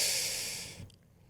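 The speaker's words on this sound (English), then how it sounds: "I have to breathe." One long, close exhale of breath, a breathy hiss that fades over about a second and ends with a faint catch.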